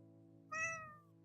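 A pet cat gives one short, clear meow nearby, rising and falling over a faint steady hum.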